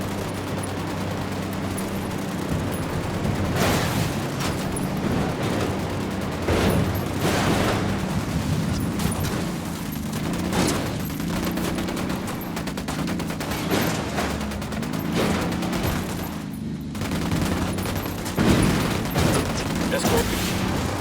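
Gunfire in the tactical shooter Ghost Recon Wildlands: repeated rifle bursts and sharp single shots crack loudly and close, overlapping in a busy firefight, with faint voice chatter mixed underneath.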